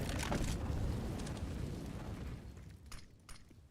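Grenades go off in a Counter-Strike: Global Offensive match, a loud rumbling blast at the start that decays into a long low roar, with a few faint sharper crackles near the end.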